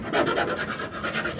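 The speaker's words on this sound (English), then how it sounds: "filing the edges of the cut" Hand filing along the freshly cut metal edge of a window opening in a Ram ProMaster van body, a close, steady rasping scrape repeated in short strokes.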